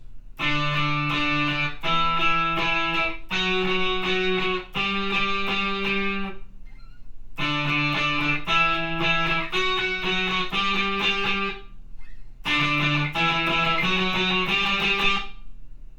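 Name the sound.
electric guitar octave riff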